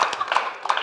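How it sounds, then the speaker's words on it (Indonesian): An audience at a comedy roast show claps for a comic, with a few scattered, brief claps. "Kasih tepuk tangan buat Fadol."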